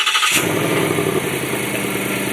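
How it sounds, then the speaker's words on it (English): A 2020 Ford Mustang GT V8 engine cranks and fires up abruptly after a brief silence, then settles into a loud, deep, rumbling idle. "That V8 roars to life."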